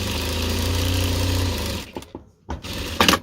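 A sewing machine stitches a fabric bag strap with a steady mechanical hum that runs close and loud, then stops and gives way to a few brief handling clicks.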